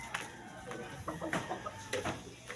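Chickens cluck softly in short, scattered calls near their cages, faint against a quiet background.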